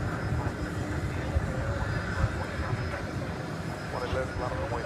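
A jet airliner takes off from a DFW Airport runway, a broad steady roar heard from a distance, with a voice speaking over it.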